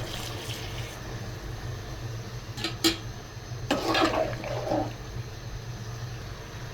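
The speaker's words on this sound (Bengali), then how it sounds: "এখন আমি পানি দিয়ে দিব" Water is poured into a cooking pot of browned spiced masala with beef and eggplant for a katla fish curry, giving a brief splashing, bubbling gush in the middle over a low steady kitchen hum.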